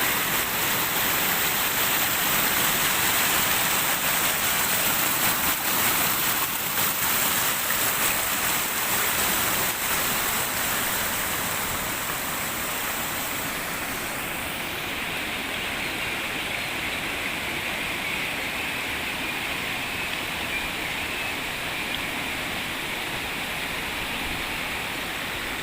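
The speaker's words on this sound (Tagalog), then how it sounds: "yung bagsak ng tubig ay papunta po doon" Steady broadband rush of a mountain waterfall pouring into a deep pool through a small opening, a continuous roar heard close and alone without voices.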